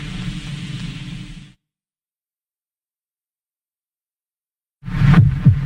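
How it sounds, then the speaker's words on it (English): A human heartbeat, a deep, muffled throbbing pulse heard up close and fairly loud, breaking off into silence before resuming. "This is the sound of a human heart."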